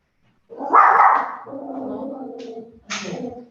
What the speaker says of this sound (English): The dog disagrees.